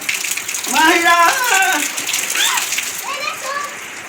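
Steady rain falls outdoors while children play and chatter nearby; their excited voices rise and fall over a constant hiss of rainfall.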